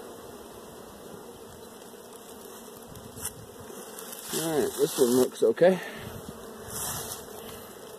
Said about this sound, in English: A lot of bees on the inner cover.